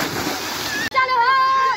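Boys plunging underwater during a competition make a loud splashing and sloshing of water at first, cut off abruptly midway, then followed by children's voices talking.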